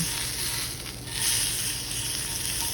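Chicken breast sautés and browns in a hot pan, a steady close sizzle and crackle of frying that swells slightly midway as the meat is moved, with no voices.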